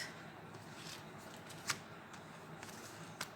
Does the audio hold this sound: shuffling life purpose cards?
yes